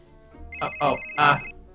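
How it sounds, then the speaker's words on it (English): A phone rings three times in VRChat, short bright electronic trills in quick succession, moderately loud with a faint hum underneath. "Frankie, I think you're getting a phone call."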